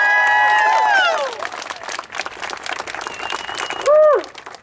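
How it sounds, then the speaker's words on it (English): An audience at a university student encampment breaks into a few seconds of moderately loud clapping after a talk, with a voice briefly heard before and after the applause. "I just think he deserves another round of applause again."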